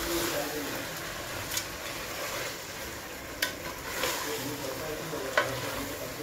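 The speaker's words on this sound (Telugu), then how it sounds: "ఇప్పుడు మనము కొత్తిమీర, పుదీనాని సగం వరకే వేసుకొని ఇలా చికెన్ పైన సగం వేసుకొని బాగా వేయించుకోవాలి" Country chicken frying in a pan with coriander and mint, a continuous close sizzle broken by a few sharp utensil taps and scrapes as it is stirred, no speech.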